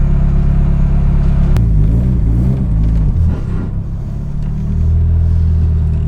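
Car with an SR-Z32 engine and a freshly fitted turbo pulling in, a loud, close, low engine drone with shifting revs and a rumbling rise toward the end.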